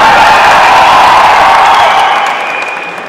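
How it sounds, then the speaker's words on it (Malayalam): An audience applauds actor Dharmajan's shoes at a Lulu anniversary event, a loud wash of clapping with a few cheers that holds strong, then gradually fades toward the end. "നിങ്ങൾ ധർമ്മജന്റെ ഷൂസിന് ഒരു കൈയടി കൊടുക്കണമെന്ന് ഞാൻ അഭ്യർത്ഥിക്കുകയാണ്"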